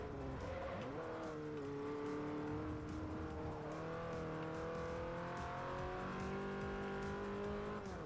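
A race car in Forza Motorsport 4 drives hard through a lift-off oversteer slide. The engine drones steadily, its pitch rising and falling through the gears, while the tires squeal throughout at a constant moderate level and nobody speaks.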